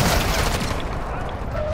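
Dense gunfire in a shooter video game, sustained overlapping bursts and booms at close range, loud and continuous, with voices mixed in.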